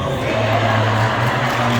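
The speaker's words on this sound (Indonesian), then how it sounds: "Tepuk tangannya dari ibu semuanya, masya Allah" Steady, loud applause and crowd noise from women in the audience at an Islamic religious study gathering, continuous and dense with no pauses.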